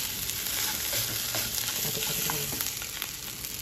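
Food fries in a pan with a steady loud sizzle while a utensil stirs it, giving occasional scraping clicks throughout.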